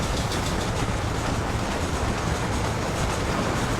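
A train rolls past in the Western video game Red Dead Redemption, its steady clickety-clack of wheels on rails and rumbling cars filling the scene loudly and continuously, with no voices over it.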